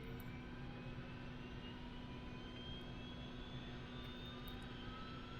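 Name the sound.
Bell 222B helicopter engine number 2 starting, MSFS 2024 video game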